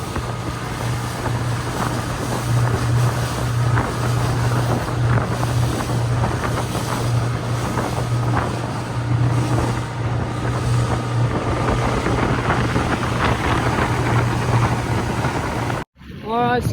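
Strong wind buffets a fishing boat on rough water in Botany Bay off La Perouse, a loud continuous roar with a steady low engine hum and faint voices underneath, cutting out briefly near the end.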